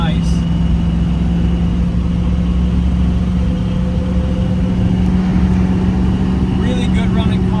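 A 1968 Chevrolet Camaro with a 327 V8 cruises down the road, its steady, loud engine drone and road rumble continuous from inside the cabin, with brief talk over it near the end.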